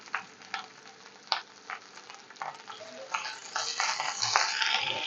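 Sliced onions and plenty of curry leaves fry in oil in a pan for a vegetable stew, a soft crackling sizzle with scattered pops that thickens and grows louder toward the end.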